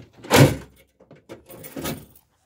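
A balky door being pushed and shut, with a heavy thump followed by scraping and a second, softer knock, close and fairly loud in a quiet room.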